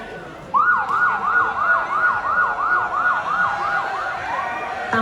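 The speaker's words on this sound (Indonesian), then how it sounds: "terdengar sirene polisi yang berbunyi dan berhenti di depan sekolah" A police siren wails in a rapid, repeating up-and-down yelp, loud and close, as it stops in front of a school, continuing for several seconds over faint background noise.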